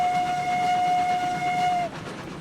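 A steam locomotive whistle in the railroad game RailRoads Online sounds one sustained steady tone for about two seconds over the rumble of the train, then cuts off.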